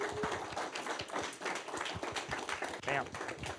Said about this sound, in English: everyone give him a humongous round of applause